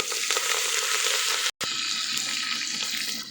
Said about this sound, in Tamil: இஞ்சி சேர்த்துக்கலாம் எல்லாத்தையும் லைட்டாக வதக்கிக்கலாம்